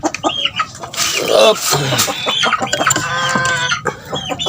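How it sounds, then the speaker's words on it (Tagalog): Native chickens cluck and squawk loudly at close range, with a rooster-like call mixed in, and a person speaks briefly among the birds. "Ayan manok natin."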